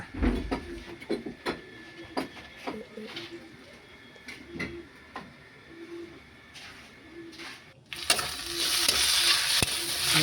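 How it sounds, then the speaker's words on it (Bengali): Onions frying in a pan while being stirred for a pumpkin-leaf curry, with repeated scraping and tapping strokes over a low sizzle, then a sudden loud hissing surge near the end. "পেঁয়াজ দিয়েছি, পেঁয়াজ দিয়ে নাড়ছি"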